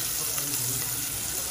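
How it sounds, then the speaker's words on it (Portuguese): Garlic and onion frying in oil in a pan as the base for a lemon and leek risotto, a steady close sizzle with faint stirring, no talking. "Então eu vou colocar aqui para fritar o alho e a cebola."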